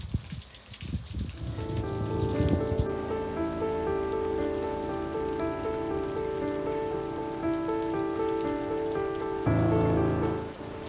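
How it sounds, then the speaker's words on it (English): Heavy rain pours steadily onto a surface close by, a constant drumming hiss with a droning hum beneath it and no talking. "We woke to relentless rain and biting cold."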